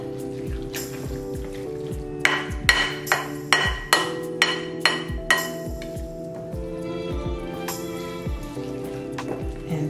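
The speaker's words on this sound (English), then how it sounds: "I'm gonna toss this just a little, but stir around." Crab cake mixture for tequila lime salmon crab cakes being tossed and stirred in a bowl, with a run of sharp, regular clinks and taps of a utensil against the bowl, close and clear, then softer scraping and stirring.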